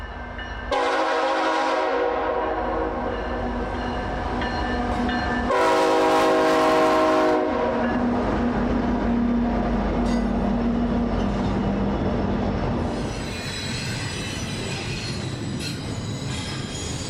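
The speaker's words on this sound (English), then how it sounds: "Train 101 has just crossed into British Columbia bound for the west coast." A westbound CPKC freight train 101 in the British Columbia Rockies, led by an AC-44 rebuild with an SD70ACU trailing, sounds several loud horn blasts over the steady rumble and squeal of the passing train.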